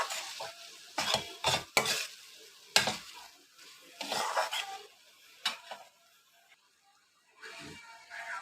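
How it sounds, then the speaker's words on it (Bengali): Dried Loitta fish frying in spice masala while being stirred, with sharp intermittent scrapes and clatters of a utensil against the pan over a soft sizzle, fairly close. "এবার আমি ভালো করে মাছটাকে মশলার সাথে কষিয়ে নেব।"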